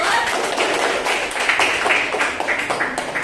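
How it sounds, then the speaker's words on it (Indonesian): Brief classroom applause from a group of pupils: a short run of quick, close hand claps with a few louder taps, no talking over it. "tepuk tangan untuk betul"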